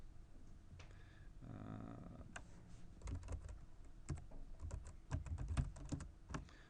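Quiet keyboard typing while writing code, with irregular bursts of clicky keystrokes, some rapid clusters and brief pauses, fairly close and alone with no talk.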